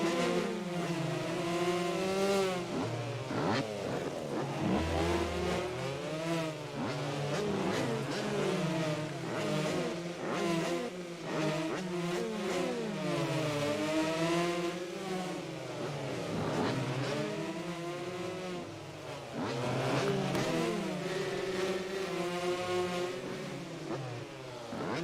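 Several 125cc motocross bike engines race in the MX vs ATV video game, a loud, continuous layered whine of revving and shifting engines that rises and falls steadily throughout.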